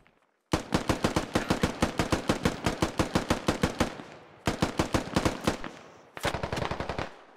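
Rapid automatic gunshots in the military shooter Squad: long evenly spaced bursts of loud, sharp cracks, close and dominant, broken by short pauses between three strings of fire.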